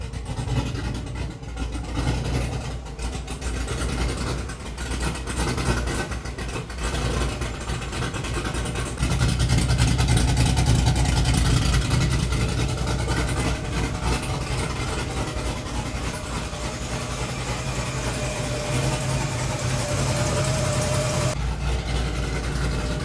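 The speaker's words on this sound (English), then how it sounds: "Obviously the new cam isn't tuned, so it's not gonna start right up." A single-cab truck engine with a newly installed, untuned cam, fresh turbo and ARP head studs idles roughly after a hard start. A continuous close, low rumble swells louder partway through, then settles into a steady idle.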